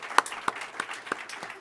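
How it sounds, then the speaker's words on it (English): Applause for honorees at a policy event, light and scattered, with a handful of distinct claps standing out over a soft background of clapping. "Let's give Neera and CAP a big round of applause for their good work"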